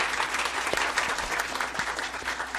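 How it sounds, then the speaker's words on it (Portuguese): An audience applauds steadily for a grieving family at an emotional public tribute, the dense clapping holding fairly constant throughout with a faint crowd murmur beneath. "Uma salva de palmas para a família do Crezão."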